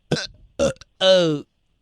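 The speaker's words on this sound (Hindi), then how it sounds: "हाँ ये तो डकार के टाइम भी आवाज आती है" A person burping, a few short throaty bursts followed by a longer, drawn-out voiced belch, close and loud.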